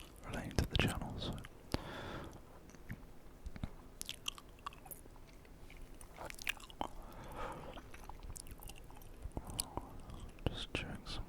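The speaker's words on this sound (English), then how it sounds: "just chewing some gum" Gum being chewed close to the mouth, with soft wet smacks and squishy crunches repeating irregularly at low volume, interspersed with faint whispering.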